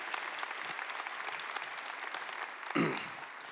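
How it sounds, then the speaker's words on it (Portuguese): Audience applause at a talk on Saint Padre Pio, dense, sustained clapping from a large crowd with a louder burst near the end. "Uma salva de palmas para ele e para todos nós que estamos aqui."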